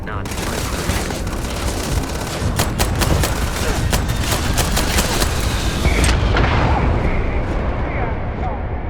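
Heavy gunfire and explosions from a space battle in Starfield, with rapid volleys and booming blasts crashing close and loud throughout, easing slightly toward the end.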